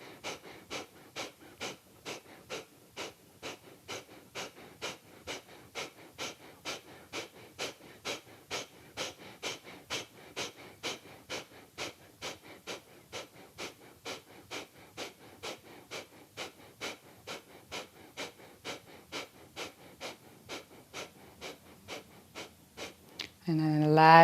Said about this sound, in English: Can again add 10 or 5 counts to your breathing.